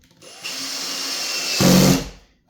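A cordless drill with its clutch set drives a screw into a kitchen cabinet, one steady whirring run of about two seconds that rises briefly at the end before stopping, loud and close.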